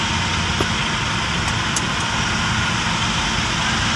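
Trucks roll off a ferry on a trip to Oriental Mindoro with a dense, continuous engine rumble and a few faint metallic clicks over the drone.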